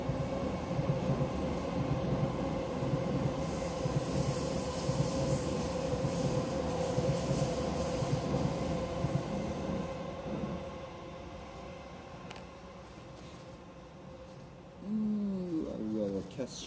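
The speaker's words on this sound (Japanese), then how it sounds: "今電車来ましたね。" A train rumbles past beneath an overpass with a steady broadband roar and rattling wheels, fading toward the end as a brief high squeal rises; faint voices murmur underneath.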